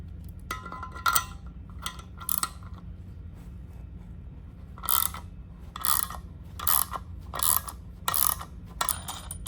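A ratchet works bolts loose on a BMW ZF8 automatic transmission, giving bursts of crisp clicking at irregular intervals, close and clear over a quiet low hum.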